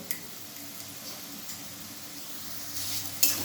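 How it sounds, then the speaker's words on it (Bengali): Ginger-garlic paste sizzles faintly in a pan of cabbage curry on low heat, with soft, steady frying and a few light ticks and scrapes as it is stirred, ending in a slightly louder spatter. "এবারে ভালোভাবে আমি নাড়াচাড়া করে নিচ্ছি, যেমন রসুনের কাঁচা গন্ধটা যেন না ছাড়ে।"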